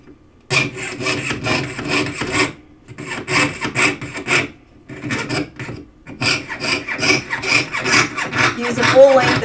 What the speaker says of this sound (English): Use the full length of your saw blade when you're sawing